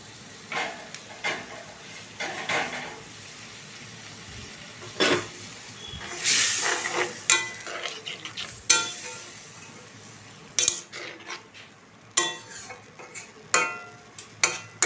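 Malabar spinach leaves frying in a pan, with a faint sizzle under repeated clinks and scrapes of a utensil stirring against the pan at an irregular pace.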